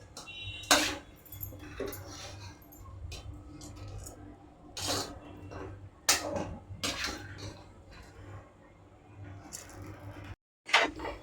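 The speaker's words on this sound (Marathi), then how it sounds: "तयार केलेलं मिश्रण आपण आता कुकरमध्ये घालत आहोत" Millet khichdi mixture is tipped into a pressure cooker, with scattered scraping, rubbing and metallic clinks of spoon against the pot, close and intermittent, plus a low steady hum underneath.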